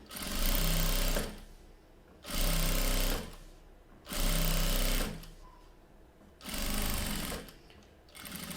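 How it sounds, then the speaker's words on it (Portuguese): A sewing machine stitching fabric in short back-and-forth bursts: four loud, steady runs of rapid motor whirring, each about a second long, separated by quiet pauses, close by and without speech. "Retrocesso no começo, retrocesso no final"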